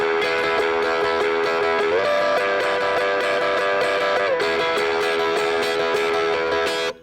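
Electric guitar playing sustained, bent double stops high on the second and third strings in a Texas blues shuffle style, with a pitch shift near two seconds and again past four, loud and alone, ringing steadily before cutting off.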